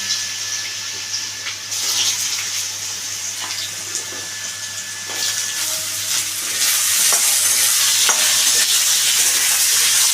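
Potatoes dropping into hot oil already spiced with nigella seeds and a dried chili for a Bengali ridge gourd dish, a steady loud sizzle that swells louder near the end, with occasional stirring scrapes and clatter.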